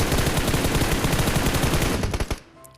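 Rapid automatic gunfire in PUBG Mobile rattles continuously for a few seconds, loud and dense, then cuts off abruptly.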